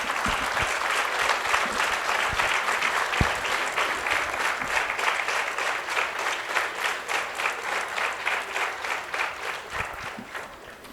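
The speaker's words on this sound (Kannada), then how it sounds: "ಎದ್ದು ನಿಂತು ಒಂದು ಚಪ್ಪಾಳೆ ತಟ್ಟಿ ಅವರ ಸಾಧನೆಯನ್ನು" A seated audience rises and claps together in sustained, dense applause that carries on for about ten seconds, gradually thinning toward a few scattered claps at the end.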